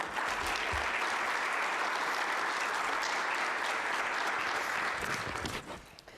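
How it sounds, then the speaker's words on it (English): Sustained applause fills the hall at a homeless symposium as the crowd claps for the mayor, a thick, even roar of hands that tapers off near the close. "Could we have a round of applause for our mayor?"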